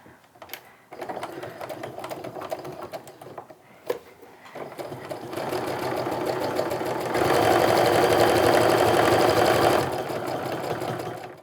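A sewing machine stitches the final seam of a quilt block, starting with scattered clicks and short bursts, then running in a steady, loud whir that speeds up near the end before stopping.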